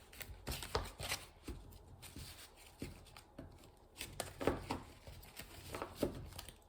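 A deck of tarot cards shuffled and cut close up, with soft repeated riffling and flicking bursts and light taps at an uneven rhythm, fairly quiet with no talk.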